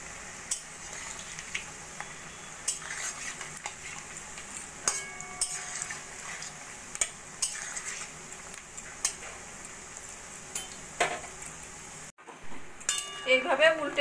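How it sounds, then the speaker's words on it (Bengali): Churma ladoo balls fry on low flame in hot oil in a wok, giving a soft steady sizzle under frequent clinks and scrapes of a spoon stirring and turning them, with brief speech near the end. "এবার এইগুলো আমি ভেজে নেব একদম লো ফ্লেমে, সোনালি করে ভেজে নেব"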